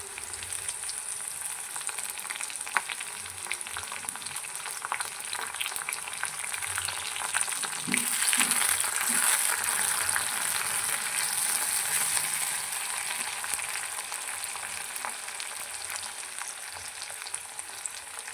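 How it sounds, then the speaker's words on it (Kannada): Onions with curry leaves fry in oil for a village-style tomato gojju, a steady loud sizzle with occasional stirring scrapes and a brief louder burst partway through, no voices. "ಆನಿಯನ್ ಸ್ವಲ್ಪ ಗೋಲ್ಡನ್ ಬ್ರೌನ್ ಬರೋವರೆಗೂ ಫ್ರೈ ಆದರೆ ಸಾಕು."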